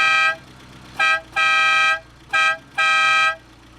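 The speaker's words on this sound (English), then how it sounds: "the horn in this car sounds bizarre" A Citroen CX car horn honks in bursts: one long blast, a short tap, another long blast, a quick toot and a final long blast. The tone is nasal and buzzy, loud and close.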